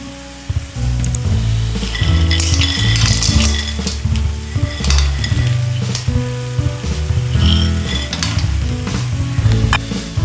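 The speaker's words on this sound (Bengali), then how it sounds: "এরপরে ভালো করে নাড়িয়ে চাড়িয়ে বুরিন্দাগুলো নারকেলের সাথে মিশিয়ে দেব।" Fried burinda being stirred through sticky coconut in a pan for khirer naru, with steady sizzling and frying plus repeated scraping and clattering of the spoon against the pan throughout, fairly loud and close.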